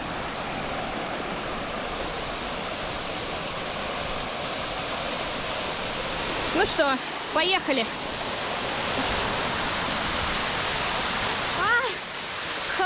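A waterfall near Gelendzhik roars as a loud, constant broadband rush of falling water, with a person speaking briefly over it partway through.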